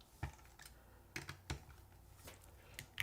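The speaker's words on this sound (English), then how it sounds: "Also, Akka, this keyboard sounds lovely." Keys clack on a custom-built Integral mechanical keyboard with a new keycap set, sounding as a few sparse, deep, fairly quiet thocks spaced irregularly with light clicks between them.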